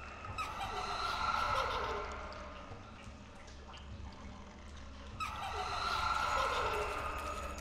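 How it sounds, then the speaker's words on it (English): In the horror video game Dreadout, an eerie ghost sound swells up twice as breathy, hollow moans over a low ambient hum, with a fading lull between the two swells. "So that is the sound of a ghost."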